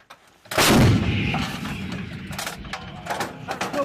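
A U.S. Marine M777 155mm howitzer fires during the Balikatan exercise, one loud, close boom followed by a long rolling echo and clattering handling noise as it fades.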